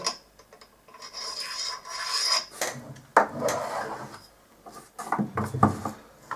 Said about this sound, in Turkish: Kare somun doğrudan kanalın içine girerek kanalın içerisinde rahatça hareket edebiliyor.